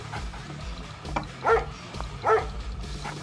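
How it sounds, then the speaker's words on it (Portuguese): Dogs bark in a real-time strategy video game, with two distinct barks over a low rumbling game soundscape and background effects. "E eu vou abrindo o mapa com os cachorros."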